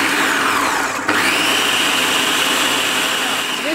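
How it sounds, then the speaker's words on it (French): A kitchen blender whirs continuously, blending crumble dough for a courgette crumble with two sprigs of thyme. The motor drone is loud and close, with one brief dip and a shift in pitch partway through. "Je vais le mixer aussi pour aromatiser ma pâte à crumble."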